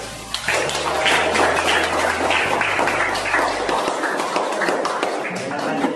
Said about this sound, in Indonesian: Kalau tidak, beri aplaus